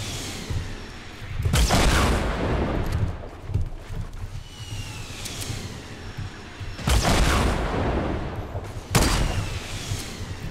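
Gunfire in a Fortnite match: several loud, sharp bursts and booming shots break out amid continuous game ambience, with a quieter stretch between the volleys.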